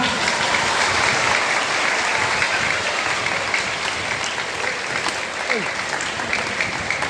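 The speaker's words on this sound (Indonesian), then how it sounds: "Tepuk tangan untuk kita semua" Steady applause fills a church during a children's Easter Mass at Stella Maris, a dense wash of clapping from a crowd of children and parents, with voices mixed in underneath.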